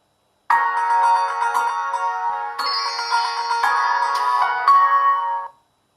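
A Samsung Night Effect phone plays its bright, chiming electronic power-on tune for about five seconds, loud and clear with no talking over it.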